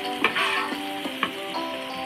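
Food sizzles in a hot pan while onions are fried crisp for porgy fish dopiaza, a close, steady crackle broken by a few soft scraping stirs of a spatula.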